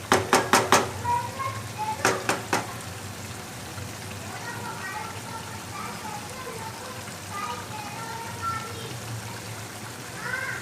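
A spoon scrapes and knocks in a pan of potato, fenugreek and spinach sabzi, a few quick clinks near the start and again after two seconds, over a soft steady sizzle while someone talks.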